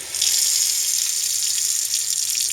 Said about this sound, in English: turn on all the faucets one at a time